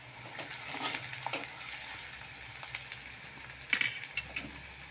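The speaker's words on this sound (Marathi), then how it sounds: "थोडासा कढीपत्ता याच्यामध्ये घालत आहे" Curry leaves and onion frying in hot oil for Vidarbha-style chun bhakar, a soft continuous sizzle with brief crackles and spatters, close and unaccompanied by speech.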